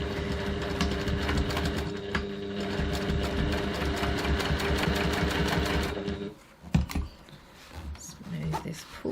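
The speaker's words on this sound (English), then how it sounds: "the sewing machine and stitch 3 mils 1/8 of an inch from the zipper teeth" A sewing machine stitches the second side of a zipper on a bag, 1/8 inch from the zipper teeth, in a steady, rapid, close whir for about six seconds before it stops, followed by quieter handling sounds and talk.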